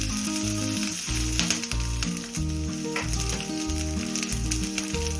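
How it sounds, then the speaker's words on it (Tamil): Mustard seeds, chana dal, urad dal and green chillies fry in hot oil, giving a steady, close sizzle that runs the whole time. A tonal, rhythmic pattern sits under the frying and no one speaks. "எல்லாத்தையும் ஒன்றா ஆட் பண்ணி நல்லா வதக்கி விட்றேன்"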